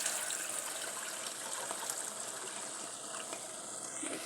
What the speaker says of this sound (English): So in a clean pot, add water.